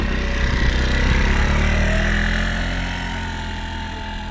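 A moped engine runs loud and close, a buzzing, rough drone with irregular mechanical rattle that eases off slightly toward the end.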